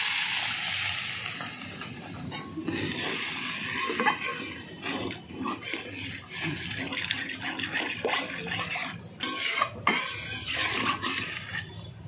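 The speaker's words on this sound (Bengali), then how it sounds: "এবার আন্দাজ মতো আমি জল ঢেলে দিচ্ছি।" Water poured into a pan of frying spice masala for a fish curry, a steady splashing and sizzling hiss with clinks of utensils against the pan, close and continuous.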